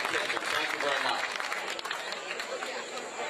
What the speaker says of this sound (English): How about a nice round of applause for all the cooks over there